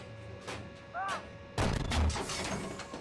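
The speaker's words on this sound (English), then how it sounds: "And just for kicks, we'll just shoot this BMP again." A tank cannon firing at a BMP in the Steel Beasts tank simulator game, a sudden heavy booming blast midway through, preceded by faint mechanical clanks and ringing tones.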